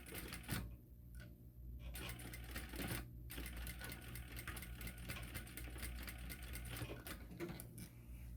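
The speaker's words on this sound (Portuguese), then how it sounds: "vou passar uma costurinha aqui, ó, com margem de 1 centímetro" A sewing machine stitches a zipper seam on a tote bag, its rapid mechanical needle chatter running almost continuously with a few brief pauses, close but fairly quiet and without talk.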